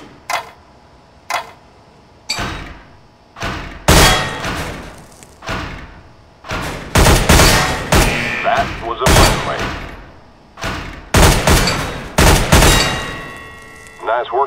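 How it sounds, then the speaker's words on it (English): Single gunshots ring out one after another at training targets in Counter-Strike: Global Offensive's weapons course, each a loud sharp crack, spaced irregularly and at times coming in quick pairs, with no talking. "pick up the weapon and shoot 5 bad guys for me"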